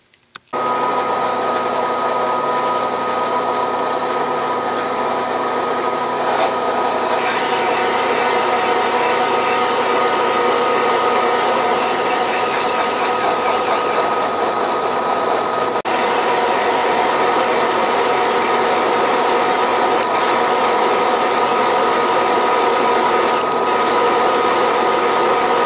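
A drill press turns slowly as a piloted counterbore cuts into a vise part, making a steady mechanical whir with a faint rhythmic chatter that runs on without a break for the whole stretch.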